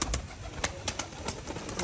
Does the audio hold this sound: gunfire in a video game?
no